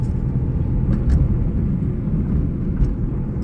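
A car engine rumbling steadily as the car is accelerated through the gears at city speed, a loud, close, low drone with road noise and a few faint clicks on top.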